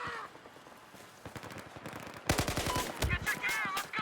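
Rapid bursts of gunfire from a Battlefield 4 multiplayer match, sparse shots early then a loud dense volley of automatic fire near the end, with game voices in the background.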